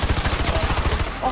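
Shotgun fire in Call of Duty Modern Warfare 2 Remastered, a rapid burst of loud, closely spaced shots crackling in quick succession before stopping.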